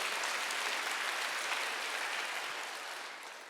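A large church congregation applauds steadily during a Wednesday service, a dense wash of clapping that holds for several seconds and then begins to taper off.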